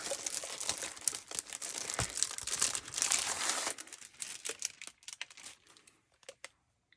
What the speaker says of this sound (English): I'm going to pull out the entire sheet here out of its wrapper